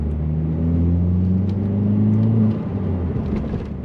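Engine of an MK4 Jetta 2.0 Turbo pulling under acceleration, a steady loud in-cabin drone and rumble with rising harmonic tones that ease off after a few seconds, no talking.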